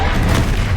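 A Bombarda explosion spell going off in the Hogwarts Legacy video game, one short booming blast with a broad, noisy burst that fills the brief moment.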